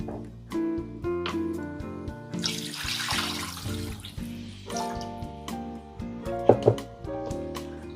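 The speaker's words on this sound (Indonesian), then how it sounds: "Saya akan masukkan air." Water is poured into a pan of cooking beef for Lapis Daging Suroboyo, a soft splashing rush that swells in the middle between quieter kitchen sounds.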